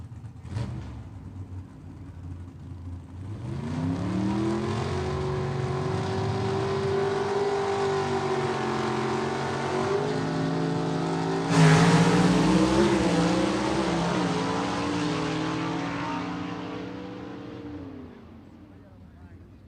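A 1965 Chevelle two-door wagon with a 477 cubic inch Par Race engine drag racing, engines roaring loud and sustained down the strip, rising in pitch with a second surge midway, then fading away, with an announcer's voice underneath.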